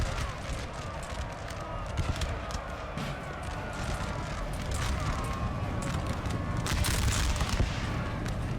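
Musket volleys crackle in a Napoleonic battle in Napoleon Total War, dense rolling gunfire over a constant battlefield din, with bursts swelling toward the end.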